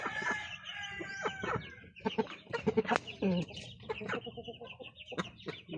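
A hen about to go broody clucks repeatedly up close, a run of throaty, uneven clucks and short calls with brief pauses, no talking over it.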